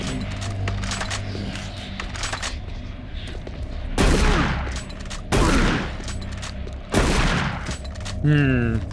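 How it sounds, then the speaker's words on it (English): Shotgun blasts ring out in a video game, four loud booming shots spaced about a second or more apart over a murky ambient background, with a brief warbling effect near the end. "I was hoping to save some ammo using the regular shotgun instead of the double barrel."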